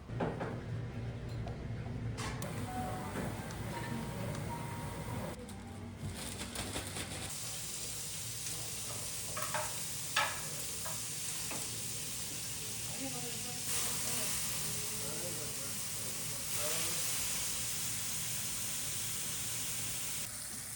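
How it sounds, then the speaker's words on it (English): Top-grade Japanese beef sizzling and hissing steadily on a hot plate in a Japanese beef restaurant, with clatter and faint background voices in a busy room. "ending it with top-grade Japanese beef, sizzling on a hot plate, feels just right"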